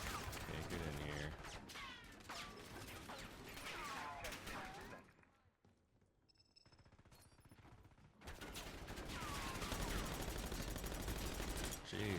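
Gunfire in a first-person shooter video game, heavy overlapping bursts of shots at close range, breaking for a quieter few seconds in the middle before resuming loud and dense, with a player talking over it.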